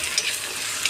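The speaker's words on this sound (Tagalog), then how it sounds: "Igigisa natin." Squid adobo sautés in a pan with a short burst of steady sizzling, broken by a couple of faint scraping taps.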